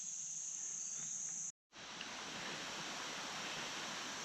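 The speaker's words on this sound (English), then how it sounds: "Listen to the crickets and the cicada and the birds." Constant high-pitched insect drone, a steady buzzing of crickets and cicadas over a wash of outdoor noise along a flat trail, briefly cut off by a gap.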